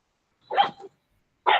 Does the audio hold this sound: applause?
no